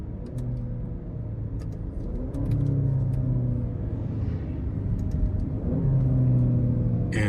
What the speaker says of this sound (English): We'll downshift to make some noise.